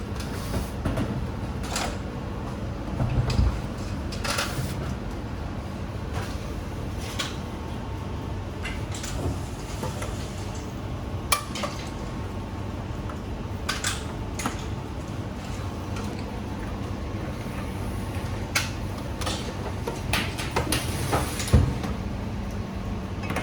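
Fresh pasta dough being rolled through a pasta machine in an Italian cooking class, heard as a steady mechanical rumble and whir with occasional clicks and knocks, continuous and fairly close.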